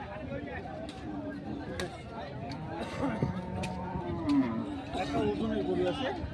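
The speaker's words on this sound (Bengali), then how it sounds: "আজকে দিনাজপুর জেলার আমবাড়িহাটে যে স্পেশাল কিছু সার গরু দেখছি" Nepali Gir bulls and other cattle at the Ambari livestock market in Dinajpur low now and then, with a few moos rising over a steady murmur of crowd chatter and people talking nearby.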